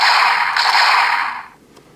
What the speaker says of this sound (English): if we pull the trigger now, we get a simple blasting sound